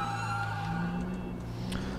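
A police siren in the video game GTA 5 during a gang-area shootout: a steady electronic wail of sustained tones holds at an even level for the full two seconds, close and continuous, with no talking.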